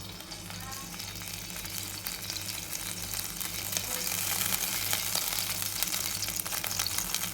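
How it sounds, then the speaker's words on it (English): Tempering sizzling in hot ghee, a steady close crackle and hiss over a low pan hum that grows slightly louder partway through, with no talk. "Now I am making seasoning out of ghee"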